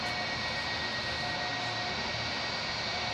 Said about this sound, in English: Oh, look at these engines, man. They sound like RB211s